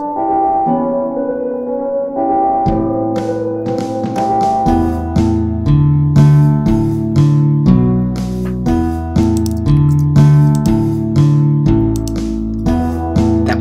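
Piano intro of a song being remixed during a live remaster session, playing steady repeated chords and bass notes alone with no voices, loud and close throughout.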